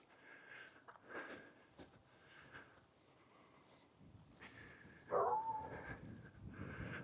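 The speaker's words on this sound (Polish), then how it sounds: "O, piesek." A dog sniffs in short, soft snuffling bursts outdoors in the mountains of the Philippines, faint against quiet background noise, with no talking.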